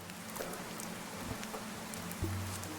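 Rain falls steadily in the Viking survival game Dead in Vinland, a faint continuous patter with scattered drips and a couple of soft low thumps.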